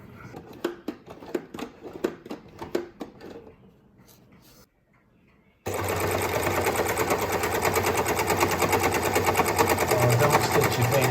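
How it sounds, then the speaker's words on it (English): A Janome overlocker sews along a fabric edge, its motor starting after a few seconds of sharp handling clicks and then running as a loud, steady, dense whir that builds slightly until the end. "Right, let's overlock this side."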